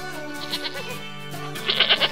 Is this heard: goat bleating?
yes